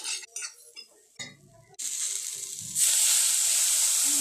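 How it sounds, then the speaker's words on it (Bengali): Taro curry sizzling in a pan as it is stirred with turmeric. It starts with a few scrapes and clinks of the spoon, then a steady sizzle rises and grows louder and fuller toward the end. "হলুদ গুঁড়ো দিয়ে ভালো করে নেড়ে নেব"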